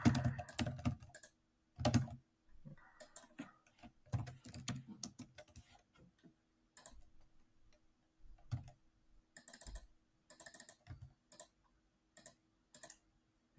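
Someone types on a computer keyboard while filling in billing details on a payment form, with rapid bursts of close key clicks broken by short pauses and no talking.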